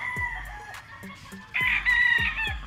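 White-legged gamecock stag crowing at a gamefarm, several crows and clucks from close by and others farther off, with a louder, longer crow rising in the second half.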